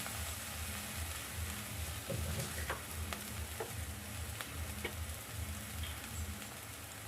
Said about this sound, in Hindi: अभी ये आधा भुन चुका है तो इसमें मैं थोड़ा सा और तेल डालूंगी।